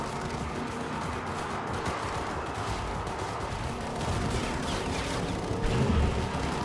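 Gunfire aimed at car tires in Cyberpunk 2077, rapid bursts of shots over a continuous roar of engine and chase noise, dense and sustained, heavier toward the end.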